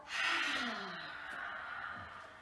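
A slow, breathy exhale through the mouth during a children's yoga session, a soft rushing whoosh that swells and fades like a wave, imitating the sea.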